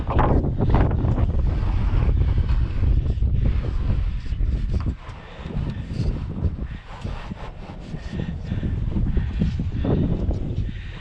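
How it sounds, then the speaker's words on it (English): Strong gusts on a breezy day outdoors at a barn build site buffet the microphone with loud, roaring rumble that surges and eases, briefly dropping before building again, with no talking. "Oh, breezy day out here, so it'll be fun."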